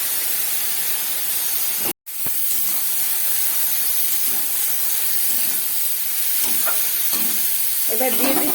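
Taro stolons frying in a pan with salt and turmeric hiss loudly and steadily. A brief drop to silence comes early on, and stirring clatters follow toward the end.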